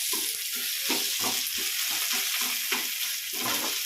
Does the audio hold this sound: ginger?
yes